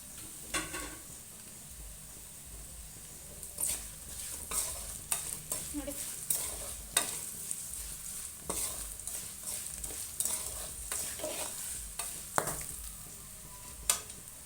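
Whole unsplit garlic frying in hot oil, with quiet sizzling broken by frequent sharp pops and splutters, some clustered, over about fourteen seconds; no talking.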